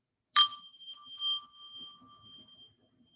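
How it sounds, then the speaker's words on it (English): A meditation bell is struck once to open a practice period, a clear ringing tone that sustains and slowly fades over about a second, heard alone in a quiet room. "I'm just going to ring the bell to start our practice period."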